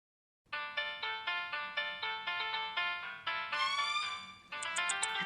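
In a Marathi TV serial scene, a mobile phone rings out on an unanswered call, a bright melodic ringtone repeating in regular pulses that climb higher and grow busier toward the end.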